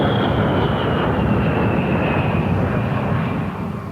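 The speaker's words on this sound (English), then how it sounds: "The discussion is over the possible replacement of this airplane, the A-10 Warthog." An A-10 Warthog military airplane flying, a loud continuous engine roar with a high whine, holding steady before easing slightly at the end.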